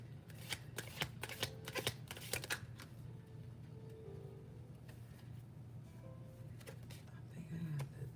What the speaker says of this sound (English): Let's get a better shuffle.